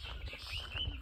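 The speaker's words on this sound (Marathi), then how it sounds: "संध्याकाळचे पक्षी बघा कसे मस्त ओरडतात." Evening birds near a Konkan hill temple chirping faintly in the distance, a couple of thin high calls over quiet outdoor air in a brief moment.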